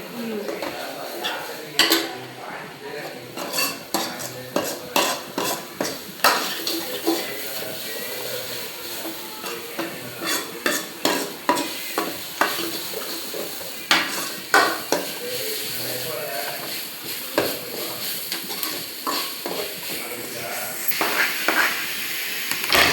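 Ginger garlic paste sautés in a pan under soft sizzling, with frequent quick scrapes and clinks of a spoon against the metal as it is stirred, in a home kitchen.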